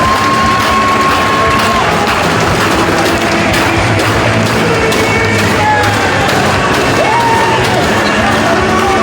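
A Manhattan pro wrestling crowd roars and cheers steadily after a Ring of Honor match between Bryan Danielson and Takeshi Morishima, a dense, loud wall of voices with scattered whistles and shouts throughout.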